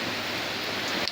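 Heavy rain falls in a continuous, dense hiss, close and loud, drumming on surfaces outside a roadside food stall.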